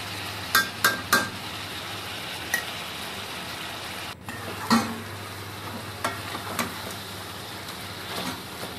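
Beef sautés in a pan with homemade shrimp paste, onion and tomato, giving a continuous soft sizzle broken by sharp clinks and scrapes of a utensil against the pan.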